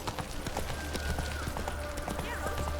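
Roach, a horse in The Witcher 3, trots with brisk, evenly spaced hoof clip-clops, close and clear over faint background music.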